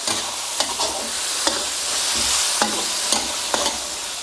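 Chicken sizzles as it stir-fries in a wok, with steady frying hiss and repeated metallic scrapes and clanks of a spatula tossing it, close up.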